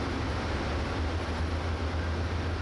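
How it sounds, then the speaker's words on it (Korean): A huge two-storey transcontinental passenger train rolls along the rails between Chicago and Denver, producing a steady, loud, unbroken rumble with deep low droning and a wash of rushing noise. "대륙 횡단 기차는 2층으로 그 크기가 어마어마하다."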